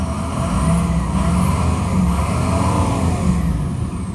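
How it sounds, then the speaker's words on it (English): A 2006 Ford E-450 Blue Bird bus, running off a jump box, has its engine revved up several times, a loud close rumble rising and falling with steady low drone underneath. "Let me rev it up for you."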